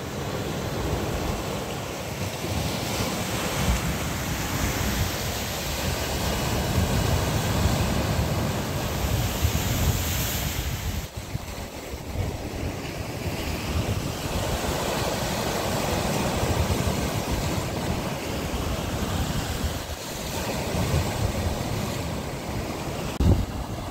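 Sea waves wash against a stone breakwater on a windy day, a steady broad roar of surf with wind buffeting the microphone throughout, no voices present.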